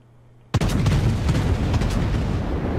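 Battleship guns in World of Warships on a Bismarck, firing a salvo as one sudden heavy boom out of quiet, followed by a long rumbling roar that holds loud to the end.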